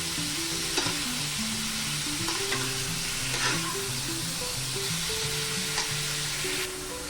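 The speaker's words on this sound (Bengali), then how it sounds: "আমি চিংড়ি মাছটা খুব বেশিক্ষণ ভাজবো না" Prawns frying briefly in a pan for a Bengali prawn malai curry, giving a continuous close sizzle with occasional stirring scrapes throughout, and no talking.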